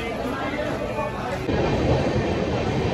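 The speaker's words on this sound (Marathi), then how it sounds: "आपली ट्रेन होती आता चाललेली आहे ती पुण्याला" A train pulling out of Lonavala station bound for Pune on a crowded Sunday, heard as a steady, loud rumble of rolling wagons that swells partway through, with people talking over it.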